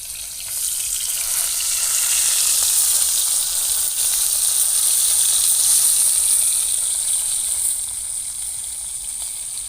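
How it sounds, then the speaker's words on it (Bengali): Steady, loud sizzling and crackling of freshly bought fish frying in hot oil, a bright hiss that swells and holds for several seconds, no voices. "এখন আমি মাছ ভাজাটা তুলে নেব।"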